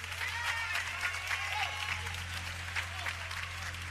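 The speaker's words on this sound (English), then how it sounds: "clap your hands for Miss Courtney" A church congregation claps for Miss Courtney of the children's department during an Easter Sunday service, a steady wash of many hands sustained for several seconds over a low, constant hum from the room.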